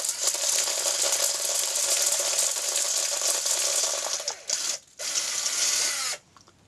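A hand corn sheller spun around a cob held over a bowl gives a continuous dry, raspy scraping of kernels stripping off, close and steady, breaking briefly twice near the end before stopping.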